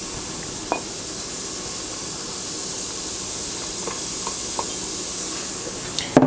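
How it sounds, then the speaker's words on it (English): Celery and pepper for gumbo hiss in a hot pot with a steady, dense sizzle, close up, with a few faint clicks of a utensil and a louder knock at the end. "we're going to add our aromatics. Celery,"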